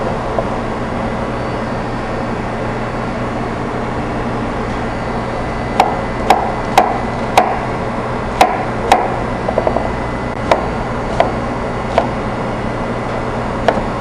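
A knife dices green pepper, red pepper and red onion on a cutting board, giving about a dozen sharp, irregular chops over a steady low hum, with no talking.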